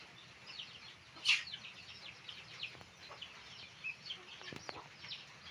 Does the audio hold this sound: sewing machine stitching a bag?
no